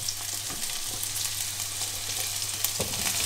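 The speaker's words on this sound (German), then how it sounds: "damit mein Spargel hier mal angeröstet wird" Green asparagus spears fry in a pan, giving a steady, close sizzle with a low hum underneath and occasional light scrapes of stirring.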